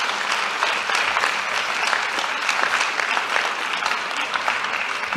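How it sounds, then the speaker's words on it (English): An audience at a Distinguished Alumni award ceremony gives the six honorees a sustained round of applause, thick and even clapping filling the room for several seconds without talk. "Could you also give a big round of applause for our honorees, for all 6 who are represented up here today?"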